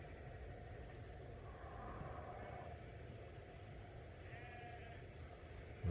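Sheep bleat faintly at a distance on a Welsh hillside, a few thin calls rising over steady low wind and rumbling background noise, with no talking.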